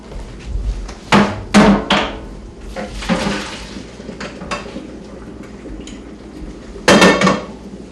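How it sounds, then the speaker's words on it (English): Cooked pasta drained from a pot in a home kitchen: loud metallic clanks and bangs of the pot and colander in several sharp bursts, with softer clatter and rushing water between them. "Okay, the pasta is ready, so we're going to drain that."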